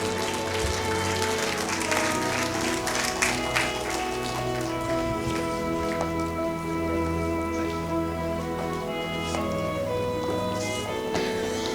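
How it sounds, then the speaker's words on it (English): An audience at a medical college alumni event applauds an award recipient, a dense, sustained wash of clapping under a steady musical backdrop throughout. "Can we please have a big round of applause for Dr."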